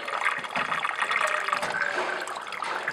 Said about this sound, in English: these cups on the end here restrict the water from flowing out too quickly